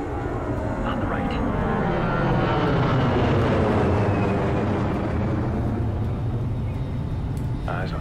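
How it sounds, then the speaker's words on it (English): A military truck engine rumbles past on an airfield in the video game Ghost Recon Future Soldier, a loud, steady low roar that swells and holds, with brief radio-style voices over it. "It's a truck."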